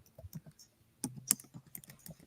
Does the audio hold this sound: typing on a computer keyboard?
yes